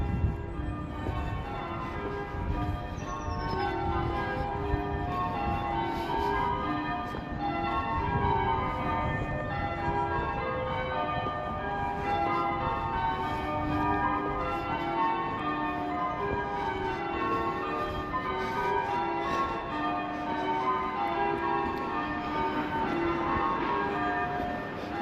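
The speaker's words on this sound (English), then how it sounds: "Yeah, they like the bells in Chester." Church bells ring out in Chester, a steady peal of overlapping tolls carrying over low outdoor rumble for the full stretch, moderately loud and slightly distant.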